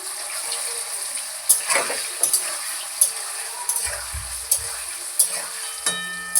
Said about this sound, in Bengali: এবার পনিরের টুকরো পুরো একটা একটা করে তেলে ছেড়ে দেবো